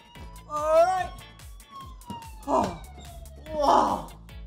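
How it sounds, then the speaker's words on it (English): A police car siren sounds in short wailing sweeps that rise and fall in pitch, close and loud, with a voice talking between and over the tones. "And we have the siren."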